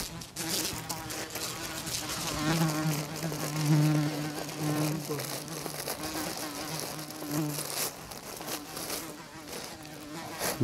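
Bees buzz steadily and closely, a droning hum rising and falling as they move around for the whole stretch.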